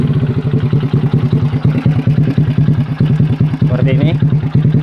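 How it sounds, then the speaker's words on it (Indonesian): A motorcycle engine, checked for a charging fault with a weak battery, idles with a rapid, even putt-putt pulse up close and loud, while someone speaks briefly over it. "Kita hidupkan dulu mesinnya."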